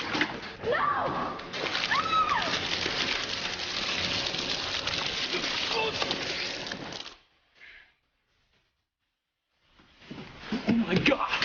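Water is splashed during a tense scene with shouting voices: a long burst of dense, noisy splashing lasts about six seconds, then silence, then a fresh rush of splashing sound at the end.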